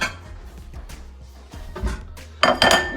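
A large mixing bowl is handled and set down in a kitchen during brisket prep, with several clattering knocks and a sharp ceramic clink at the end, close and fairly loud, no talking.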